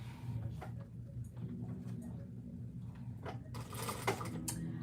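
A sewing machine runs steadily, stitching pleats into a girl's dress underskirt in a continuous low mechanical whir, with a few brief clicks and bumps as the fabric is handled.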